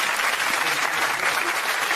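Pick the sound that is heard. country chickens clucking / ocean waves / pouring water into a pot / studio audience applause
studio audience applause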